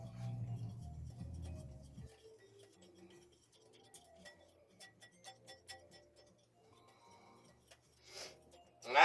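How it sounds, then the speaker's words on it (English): A dry baking mix is whisked in a bowl, giving a run of light, quick metallic ticks and scrapes at an uneven rhythm, close and fairly quiet, after a brief low hum at the start and before a louder clatter near the end. "we're going to take our dry mix, we're going to whisk it, just like this"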